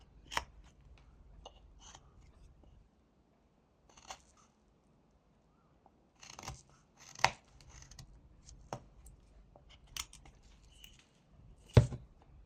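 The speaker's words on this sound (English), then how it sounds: "the first proper cut we're gonna make is this V cut" A carving knife making a V cut into a block of wood to shape the bridge of a nose: sparse, close, crisp snips and scrapes with quiet gaps between them, and a sharper cut near the end.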